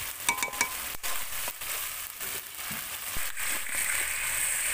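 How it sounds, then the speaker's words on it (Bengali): Rui fish curry masala with Kashmiri chili powder being stirred in a pan, with soft scraping strokes and a few clinks over a continuous low sizzle. "এই যে এবার ভালো করে নাড়াচাড়া করে নেব কাশ্মীরি লঙ্কার গুঁড়োটা দেওয়ার পর।"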